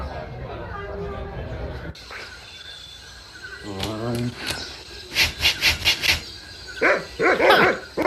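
A cartoonish dog barks in the Monkey Island 2 Special Edition adventure game, several short yelping barks in quick bursts amid game music and effects, with character dialogue spoken before them.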